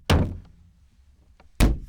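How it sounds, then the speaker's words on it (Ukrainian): Two heavy, close knocks in the indie horror video game Buried, dull booming thuds about one and a half seconds apart with faint rustling in between. "Хтось дихає і стукає."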